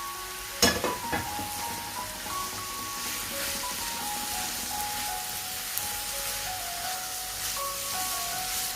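Chicken pieces dropped into a hot pan of mixed vegetables for noodles hiss and sizzle steadily, with a sharp burst as they hit the oil followed by continuous frying crackle and occasional stirring clinks.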